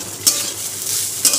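Pulao is stirred in a pan over steady frying hiss, with two distinct scraping clacks of the utensil about a second apart, loud and close with no voices.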